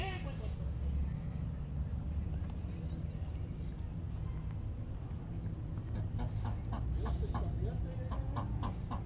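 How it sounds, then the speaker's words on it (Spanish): Ducks calling at a park in Tijuana, a series of short clucking, fowl-like calls over steady outdoor background noise, with faint voices nearby. "Amigos, allá andan los patos."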